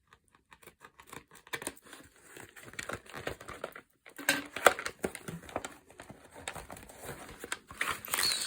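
Scissors snipping and plastic crinkling as a papercraft magazine's free gift packaging is cut open, with faint rustles and handling noises close up, building toward a denser burst of crackly tearing near the end.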